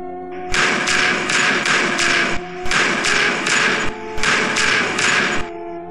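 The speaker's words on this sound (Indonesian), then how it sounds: "pintu kamar digedor-gedor dengan hebatnya" Violent pounding on a bedroom door: three loud bursts of rapid heavy thuds, each a run of four to six blows, separated by short pauses, with a faint steady tone underneath.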